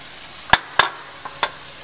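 Fish cooks over an open fire with a soft, steady sizzle, broken by four sharp close clicks or taps from utensils. No one speaks.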